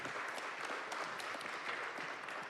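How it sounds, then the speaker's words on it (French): An audience applauds at a public discussion event, a steady wash of clapping at moderate volume throughout the short stretch, with no voices rising above it. "Peut-être d'abord applaudir Olivier Serva."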